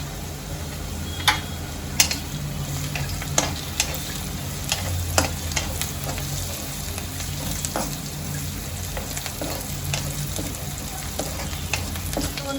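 Onion, chilli and spring onion sauté in a pan with asafoetida added, giving a steady close sizzle broken by sharp clicks of a spoon stirring against the pan.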